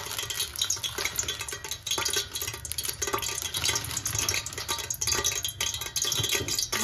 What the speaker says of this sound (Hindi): एक चम्मच जो है मैंने जीरा डाल दिया है।